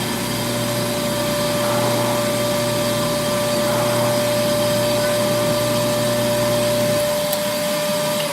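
A large shop vacuum drones loudly and steadily with a constant high whine, then cuts off near the end as the motor spins down.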